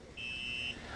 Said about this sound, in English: Alarm. Let's see what the alarm is.